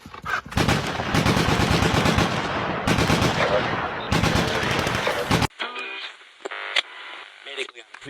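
Dense bursts of rapid automatic gunfire crackle in a dramatized night-time encounter, loud and sustained in several volleys, followed by quieter radio-like chatter.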